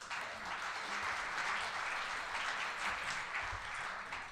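Steady applause fills a room at a Rotary holiday celebration meeting. Many hands clap continuously at a moderate distance for several seconds, with no talking over it.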